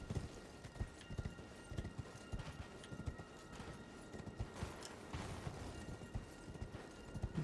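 Steady clip-clop of horse hooves at a walking pace in Elden Ring, fairly close, with faint background ambience and a light mechanical rattle.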